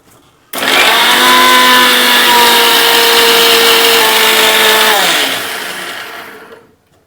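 A mixer grinder grinds spice paste for a curd and brinjal curry, a loud steady whine that starts abruptly, holds for several seconds, then drops in pitch and winds down as the motor is switched off.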